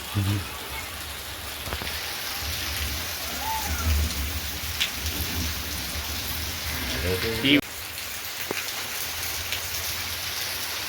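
Steady rain falling on surfaces: a continuous, even hiss of drops throughout, with a faint voice and a few small knocks.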